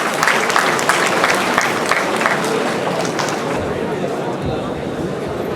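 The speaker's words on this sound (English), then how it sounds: "huge round of applause for all the winners and all the participating teams" Crowd applauding the winners and teams at a pitch competition, a full, sustained roar of clapping that stays strong, then softens slightly near the end, with some chatter mixed in.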